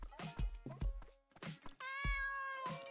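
A cat meows in the Dave the Diver video game, a few short close calls followed by a longer, sustained meow that holds steady, clear and loud with no talking.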